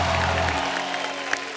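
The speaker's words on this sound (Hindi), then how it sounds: "तो सबसे पहले आप सबकी जोरदार तालियों के बीच प्लीज वेलकम" Applause from a studio audience on a Hindi television comedy show during a guest welcome: a dense, steady wash of clapping that fills the room briefly, then thins out.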